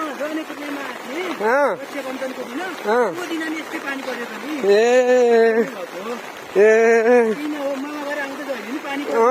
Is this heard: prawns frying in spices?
no